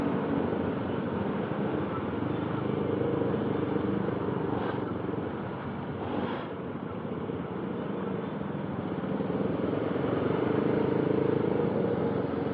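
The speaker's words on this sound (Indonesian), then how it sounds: "ini suara mesin yang dihasilkan halus" A motorcycle engine with a stock, non-racing cam runs smoothly in traffic, a steady close-up drone that holds even throughout with no knocks or odd noises.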